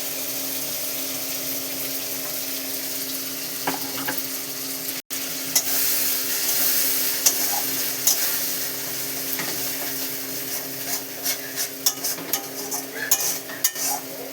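Spice paste stir-fried in a pan for a Bengali tengra fish curry gives a continuous close sizzle and hiss, punctuated by irregular scrapes and taps of a spatula that grow busier toward the end.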